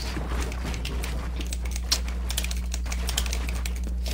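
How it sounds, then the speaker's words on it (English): Game controller buttons mashed rapidly during an intense 1v1 competitive match, a dense stream of small plastic clicks and taps over a steady low hum, with no talk. "Could you be spamming your controller any louder?"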